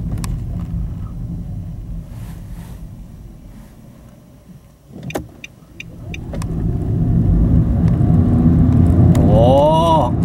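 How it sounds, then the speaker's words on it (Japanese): Nissan Note e-Power Nismo pulling away from a standstill, a low in-cabin drive hum that swells steadily into a rising electric whine near the end. "じゃあちょっとゼロ発進。"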